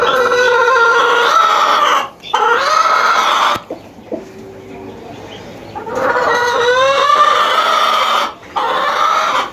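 Chickens, including a black hen, clucking and squawking loudly and close by in a farmyard, in several sustained bursts separated by short lulls, with no talking.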